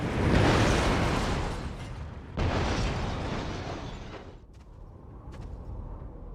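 A plane blows up in a Syphon Filter game: a loud, broad booming blast, then a second burst that fades into a rumbling tail.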